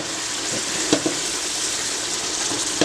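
Fish benachin (thiebou dieune) mixture being stirred in a pot, a loud, continuous bubbling sizzle with a few brief scraping knocks from the spoon.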